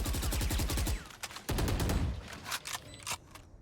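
Rapid bursts of gunfire spraying in the Valorant video game, a dense automatic volley in the first second followed by a sharp single crack and scattered shorter bursts, loud and up close with no talking.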